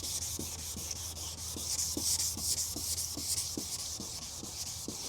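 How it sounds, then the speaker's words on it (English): Steady scratchy rubbing of sandpaper back and forth wet-sanding an oxidized car headlight, with regular soft strokes under a constant hiss and low background hum. "That's gonna be the first step with the sandpaper."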